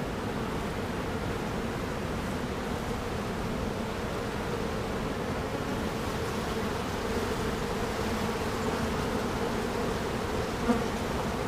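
Honeybees swarm over a heavy hive frame during a beekeeping inspection, producing a steady, dense close-up buzz that holds at an even level throughout with no talk.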